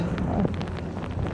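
Storm Darragh's gusts buffet the microphone on Skegness seafront, a low, rumbling roar that swells and dips without pause and carries no talk.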